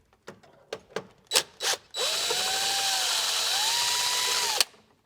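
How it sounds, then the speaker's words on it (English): A magnetic nut driver drives a screw into a breaker panel interlock bracket, a few quick clicks and short bursts followed by a steady whirring run of about three seconds, close and loud, that stops abruptly. "Using a magnetic nut driver."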